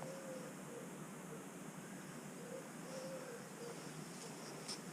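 Soft, distant bird calls and hoots carry over a steady wash of shoreline water and wind along a wooded estuary shore near a marina at dull early sunrise.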